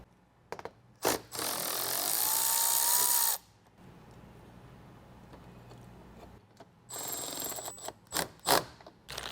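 Bolt on a bracket on the bumper of a 2022+ Toyota Tundra is tightened with a power tool or ratchet, in two loud, sustained whirring bursts separated by quieter handling noise, with sharp clicks near the end.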